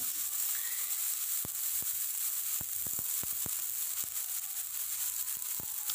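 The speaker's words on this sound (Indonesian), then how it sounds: "nah ini kita tumis dia hijau banget teman-teman ini masih seger ya" Pumpkin shoots sautéing in a pan, a soft, steady sizzle with scattered faint ticks and pops across several seconds, quiet and without voices.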